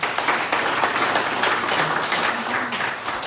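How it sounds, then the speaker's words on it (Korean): Steady applause from a crowd at a lawmaker's hometown legislative report meeting, dense and continuous throughout, with faint voices mixed underneath. "빨리 기회를 드립니다. 박수 보내주십시오."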